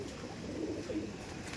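Baby pigeons in a loft give soft, faint cooing murmurs over a low, steady background hush, with no voices.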